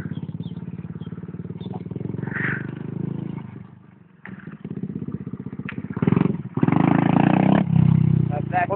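Small monkey bike motorcycle engine revving hard through a wheelie, loud and close with rising and falling pitch, louder bursts toward the end, and voices talking over it.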